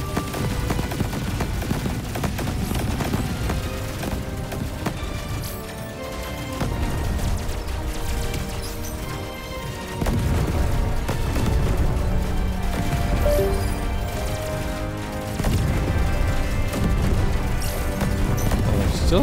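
Spaceship gunfire from the shoot-'em-up game Cygni: All Guns Blazing pours out as a dense, continuous barrage of rapid shots and crashing explosions, loud and unbroken, layered over game music.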